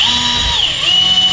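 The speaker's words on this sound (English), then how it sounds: "drill your 3/8 pilot hole as straight as you can" A power drill whines steadily while boring a 3/8 pilot hole into a door for a smart lock, its pitch dipping briefly under load before rising again, loud and close, with no talking.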